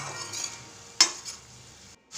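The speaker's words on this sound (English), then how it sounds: "I'm going to fry it for about 4 to 5 minutes on medium flame" Soft, steady sizzling of prawns frying in a pan on medium flame, with a brief clink of a utensil partway through and a short pause near the end.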